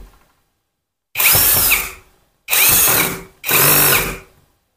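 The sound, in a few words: APR AP85 Pro brushless drill running in screw mode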